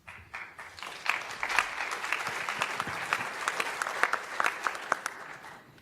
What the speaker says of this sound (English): The applause always feels a little contrived